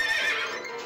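A horse neighs in the Disney Mickey's Animal Parade video game, one short, bright whinny that rises and fades over under a second, heard alone without talk.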